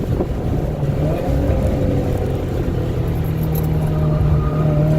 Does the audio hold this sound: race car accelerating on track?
yes